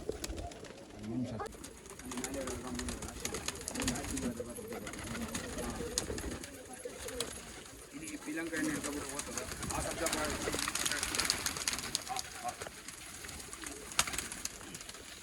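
Pigeons of an old-line breed coo softly in their enclosure at a sale in Bangalore, partly beneath nearby conversation and other background noise.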